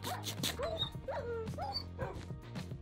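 A dog in Minecraft with the Better Than Wolves mod gives several quick yips and barks over a low game hum, close and fairly faint.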